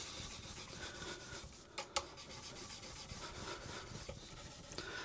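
Steady rubbing on worn guitar frets, polished slowly and evenly along the neck during a setup, with a couple of brief sharper scrapes partway through; close and quiet, no talking.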